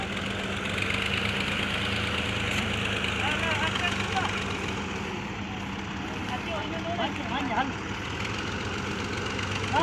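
The engine of a tractor pulling a loaded trolley runs with a steady, fairly loud rumble at a harvest site while voices talk over it.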